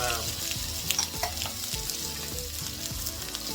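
Chopped onion hitting a generous amount of hot oil in a pan for a vegan kimchi stir-fry, a loud, continuous frying sizzle with a few stirring knocks, close and steady, with no voice.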